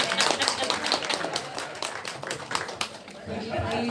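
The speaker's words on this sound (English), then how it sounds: "Give them a round of applause." A round of applause from attendees at a community organisations' extreme-events preparedness session: steady, dense clapping throughout, with a voice speaking over it.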